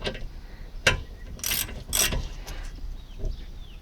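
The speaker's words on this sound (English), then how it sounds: "this ratchet, half-inch ratchet drive is ideal" Half-inch drive ratchet clicking as it tightens a front brake caliper bolt on a Lexus IS220, a few short bursts of sharp metallic ratcheting close up, separated by brief pauses.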